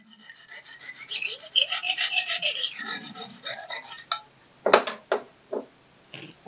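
Knife sharpening on a Molibao sharpening system stone: a near, scratchy grinding stroke that runs for a few seconds, then a series of separate short scrapes, clear and alone.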